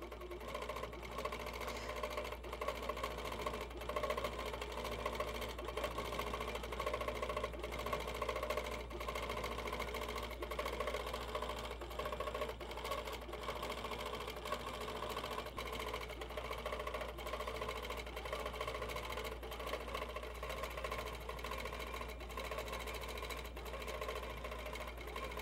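An HQ Pro-Stitcher longarm quilting machine runs steadily at half speed while stitching a quilt design, giving a continuous, even mechanical whir with rapid needle clatter at a constant level throughout.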